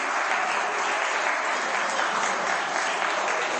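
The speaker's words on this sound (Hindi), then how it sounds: "ताली मत बजाओ" An audience claps steadily through a lecture hall, dense sustained applause at even loudness from start to finish, with no voices over it.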